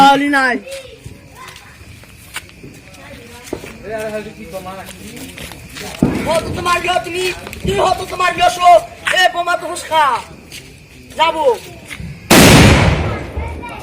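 Voices chatter and call out during Diwali celebrations, then a single firecracker bursts near the end with one loud, close, sharp bang.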